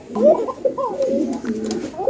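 Fancy Koka pigeons coo in a farm loft, close and loud. Their soft throaty warbles overlap and roll on without pause.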